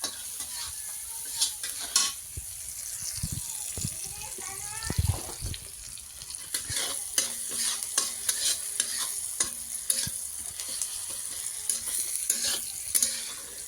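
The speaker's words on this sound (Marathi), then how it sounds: "खूप दिवसाने पोहे करते बरं का" Poha gets stirred and tossed in a blackened, thin kadhai on a gas stove, with close scraping spoon strokes and a light sizzle repeating irregularly throughout, voices talking faintly in between.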